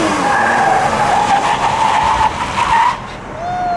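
Car understeering on a race track during a trackday, with loud, sustained tire squeal and engine roar close by, fading out at the end.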